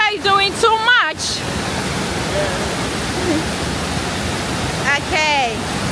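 Kpatawee Waterfall in Liberia roars as a steady, loud wash of rushing water throughout, with voices speaking over it at the start and again near the end.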